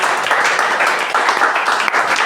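A church congregation applauds and cheers in praise of Jesus. The clapping and acclaim form a loud, steady, close wash of sound with no single voice standing out.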